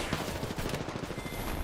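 Rapid bursts of automatic gunfire from an online shooter video game, dense and continuous, loud and close throughout with no voices over it.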